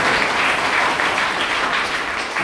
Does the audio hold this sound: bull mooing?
no